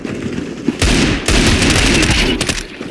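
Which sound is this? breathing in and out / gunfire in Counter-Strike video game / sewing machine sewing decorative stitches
gunfire in Counter-Strike video game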